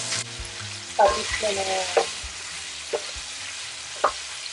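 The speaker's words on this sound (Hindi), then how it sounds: "अब हमारी मिर्चें भी थोड़ी सी फ्राई हो गई हैं, लहसुन भी, तो इसमें हम कलेजी डाल देंगे" Chilies, garlic and liver sizzle steadily in a hot pan, with a few clinks from a spoon stirring against the metal. A brief voice speaks over the frying.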